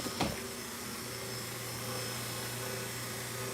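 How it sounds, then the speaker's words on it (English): A freeze dryer hums steadily at close range, a constant motorised drone with a low tonal whine, after a brief knock at the start. "Freeze dryer's running."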